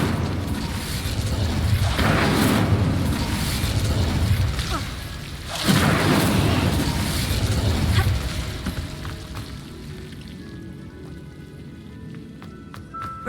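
An Incendio fire spell is cast in Hogwarts Legacy, giving two loud booming whooshes a few seconds apart that fade into a quieter crackling tail.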